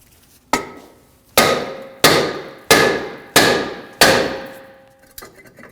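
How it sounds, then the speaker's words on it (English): Six sharp metallic hammer blows strike a rear brake rotor on the hub of a 2013-2015 Subaru XV Crosstrek, each ringing clang decaying before the next in a steady rhythm, close and loud with no talk. "To remove the rotor, hit the rotor on the hub surface between two of the studs"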